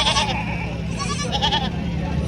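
A goat bleats several times, wavering and fairly close, at a busy goat market in Tando Allahyar, with steady crowd noise underneath.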